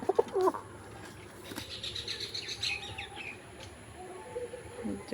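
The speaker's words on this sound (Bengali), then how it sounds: "এখানে রয়েছে আমাদের পায়রা গিরিবাজটা" Soft cooing from pigeons, including a Giribaz pigeon, and a few chirps sound nearby over quiet background noise, with a brief flutter of wings near the start.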